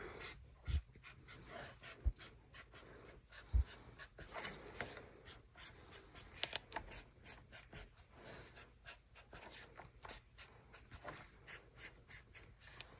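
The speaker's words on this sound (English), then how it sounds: "I'm going to go around and add as many stars as I want, spreading them out all over my paper." A pen scratches across paper in short, rapid strokes, drawing stars in a steady run of brief scraping bursts, close and quiet with no talking.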